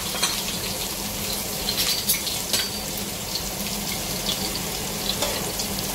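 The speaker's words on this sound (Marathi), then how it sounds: "स्टार्टिंगला मी आधी लसूण टाकते, तो तेलामध्ये व्यवस्थित फ्राय झाला पाहिजे" Garlic frying in hot oil in a pot for mushroom pulao, giving a steady broadband sizzle with faint crackles throughout and no voices.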